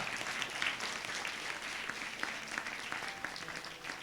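A church congregation at a Hindi-language Sunday service claps loudly and continuously, a dense, steady wash of many hands with no pauses.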